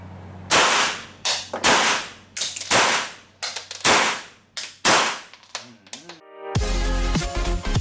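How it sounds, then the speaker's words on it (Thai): A silver Blow F92 Beretta blank gun fires a series of loud, sharp reports, roughly a dozen shots at irregular intervals, each with a short ringing tail, followed by a harsh burst of noise at the end. "ทดลองยิงเลยนะครับ"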